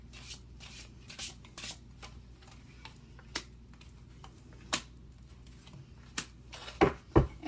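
Tarot cards being shuffled during a Capricorn reading, soft papery riffles and sporadic sharp flicks and taps at irregular intervals, growing denser toward the end, close and fairly quiet with no talking.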